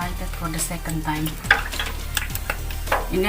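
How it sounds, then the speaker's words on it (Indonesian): Oil sizzles and crackles steadily as potatoes fry, a continuous close hiss under a low background hum. "Ini aku akan goreng lagi yang kedua kali kentangnya"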